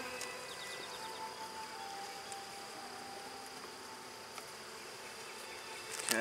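Agitated honeybees buzz around an opened beehive, a dense, steady drone close by with no speech.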